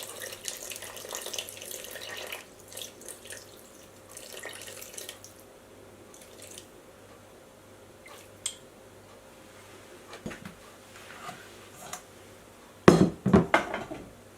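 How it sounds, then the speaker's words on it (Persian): Lukewarm water poured into flour from a tap or jug sounds as a soft, running trickle with faint hiss, followed near the end by louder clattering and knocks of a bowl or container being handled close by. "حالا 225 میلی لیتر بهش آب ولرم اضافه میکنم."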